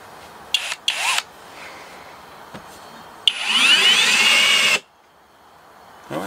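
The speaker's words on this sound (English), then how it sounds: "let's drill some stuff and screw some stuff and hit it with a hammer" A HOTO 12V brushless cordless drill drilling wood whirs in short bursts, then runs steadily for about a second and a half with a rising whine before cutting off; loud and close.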